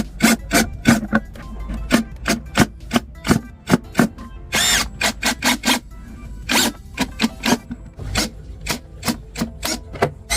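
Short bursts from a power drill driving screws into wood, a dozen or so quick whirring spins separated by brief pauses, close and crisp with the occasional scrape of the workpiece.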